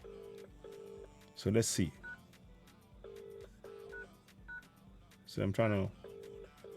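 Telephone ringback tone on an unanswered call to an embassy office, repeating steady beeps with pauses, with someone talking briefly over it between rings.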